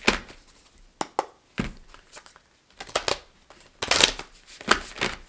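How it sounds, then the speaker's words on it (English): Tarot cards are shuffled in quick, crisp bursts of riffling and flicking, several rounds with short pauses between, close up. "Okay, let's shuffle them up again."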